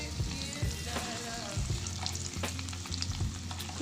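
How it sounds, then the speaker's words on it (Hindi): Masala-coated eggs frying in hot oil for egg gravy curry, a continuous close sizzle with crackling pops and occasional scraping of a spoon in the pan. "अब जो है ये ऑयल गर्म हो चुका है तो इस तरीके से आपने एक एक करके तो थोड़ा सा फ्राई कर लेना है"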